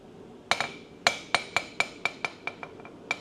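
A blacksmith's hammer forges a small recurved kukri-style blade on the anvil: about a dozen close, sharp strikes in a steady rhythm, each leaving a bright metallic ring.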